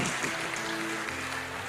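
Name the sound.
church congregation applauding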